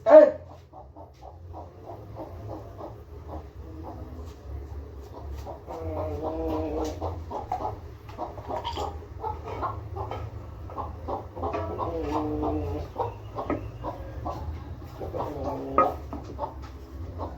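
Hens cluck in soft, repeated bursts over a low background hum, with occasional quieter voices.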